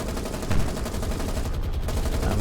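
Aircraft strafe ships in the naval combat game War on the Sea, producing a dense, loud, continuous roar of rapid gunfire and explosions that fills the brief moment.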